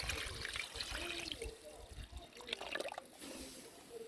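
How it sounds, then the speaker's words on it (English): Water runs into a cooking pot on the fire as soup prep begins, a soft, continuous trickling splash at close range, faint overall with some background noise. "get some water in the pot."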